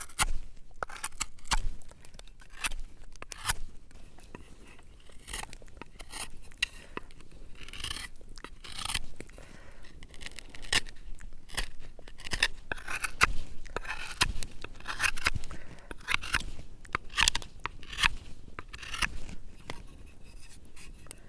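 A knife shaves and carves yucca into a spatula at a windy Texas desert camp, making repeated close scraping and crunching strokes in irregular bursts for about twenty seconds.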